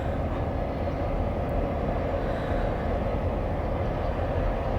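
A short CSX freight train rolls slowly past up close, a loud, steady rumble of wheels and railcars filling the whole stretch with no break.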